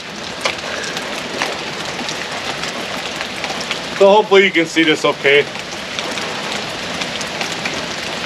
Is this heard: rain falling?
yes